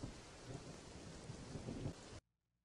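Steady heavy rain with rumbling thunder in a Roblox camping game, a dense continuous roar that cuts off abruptly into near silence.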